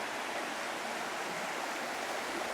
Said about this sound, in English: I'm going to call this Artemis Butte Creek because we know that old Juniper McKenzie and the crew have to cross it